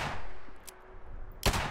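Two sharp gunshot blasts from a scoped rifle in the video game Fallout 76, a brief crack early on and a louder report near the end, with no talking.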